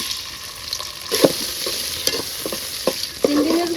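Shrimp fry in oil in a pan, a hiss that rises and falls while a utensil clinks and scrapes now and then. Heard up close at a moderate level, with no talking.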